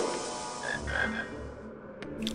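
A frog croaks in a Harry Potter video game, giving several distinct croaks spread across the moment over a rumbling, noisy game background, with no talking.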